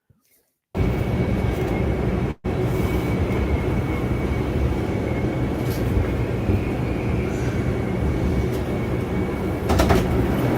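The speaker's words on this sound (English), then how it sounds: "This is a Brooklyn-bound 4 train" A Brooklyn-bound 4 subway train in New York rumbles loudly and continuously, a dense roar of wheels and carriage noise after a brief quiet start, with a short dropout near the beginning and no speech.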